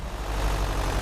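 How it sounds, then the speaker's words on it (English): A loud car engine running just outside, heard during a TruckersMP truck-driving game session: a steady low rumble that holds throughout with no talk over it. "Loud car outside."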